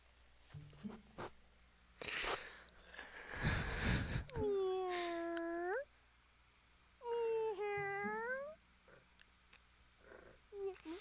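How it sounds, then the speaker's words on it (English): Cat gives two drawn-out meow-like calls, clear and close, amid scattered rustles and brief talk. "Did she just meow?"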